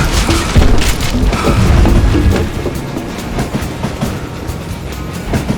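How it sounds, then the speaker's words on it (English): A train rolls by in the video game Call of Juarez Gunslinger, with loud booming rumbles and clattering wheels on rails, heaviest early on and then settling into a steady, slightly quieter clickety-clack. "I wondered if I was ever going to find the front of that train"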